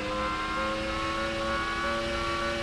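Honda engine of an F1 car in Formula One 2000 on PS1, a loud, steady high-pitched whine held at near-constant revs with slight pitch wavering, filling the whole moment.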